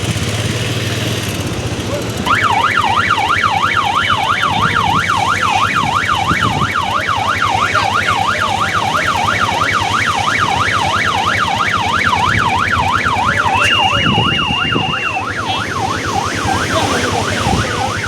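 A police car siren wails in a fast, repeating up-and-down pattern, loud and close over idling engine noise and beach-side traffic, lasting through most of the clip.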